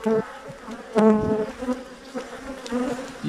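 Honeybees at a beehive buzz steadily and close by, a dense humming drone with individual bees swelling louder as they pass near.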